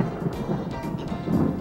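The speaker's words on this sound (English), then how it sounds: "You sure you don't want the thunder?" Distant thunder rumbling after lightning on the Big Sur coast, a low, continuous roll that swells near the end, mixed with wind buffeting the microphone.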